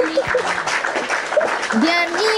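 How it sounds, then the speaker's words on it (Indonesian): A crowd gives a lively round of clapping for Kakak Ayume, a brief burst of applause mixed with overlapping voices talking through it. "Beri tepuk ya yang meriah buat kakak Ayume ni."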